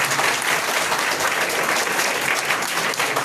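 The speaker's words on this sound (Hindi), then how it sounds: "टीचर्स का स्वागत करें एक बार तालियों के साथ" A crowd of students at a school academy applaud together to welcome their teachers and manager, a dense, loud, even roar of clapping that holds steady throughout.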